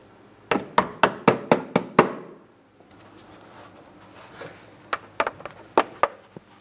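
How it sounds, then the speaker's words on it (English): A hammer taps push clips into the plastic inner fender liner of a 2008-2016 Chrysler Town & Country: a quick run of seven sharp knocks, a pause, then another cluster of taps, close and loud. "If you need to, you can carefully tap on those with a hammer"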